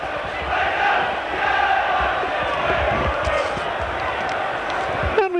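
A large football crowd at Sheffield United's 1986 Boxing Day match against Hull City roars and chants steadily in a broad, distant wash, with a commentator talking over it.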